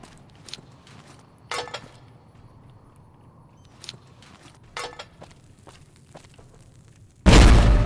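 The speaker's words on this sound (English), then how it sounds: "set down some frags" In Fallout: New Vegas, frag grenades go off: a few quiet pops and clicks first, then a sudden, loud, heavy blast at the end that keeps rumbling.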